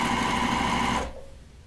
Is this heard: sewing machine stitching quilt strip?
yes